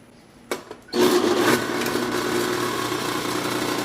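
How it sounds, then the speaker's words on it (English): A steady mechanical hum and whine from a running phase converter in a metal casting workshop drones on after a couple of short knocks, loud and continuous, with no talking. "The noise you're hearing is from the phase converter."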